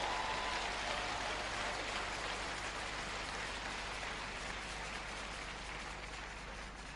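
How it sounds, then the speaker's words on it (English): A church congregation claps loudly during a sermon, a dense, steady wash of applause holding evenly for the full stretch without pause. "Clap right there loud."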